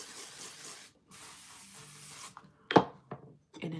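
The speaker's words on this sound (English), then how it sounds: "All right, I'm gonna spray." A spray bottle hisses in long bursts onto wet hair, two sustained sprays followed by a few short, sharp spritzes close to the microphone.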